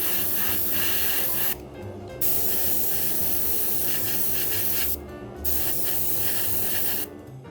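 Airbrush spray painting a Zaku head model: a steady, close hiss of paint mist in long bursts, broken by two brief pauses where the spraying stops.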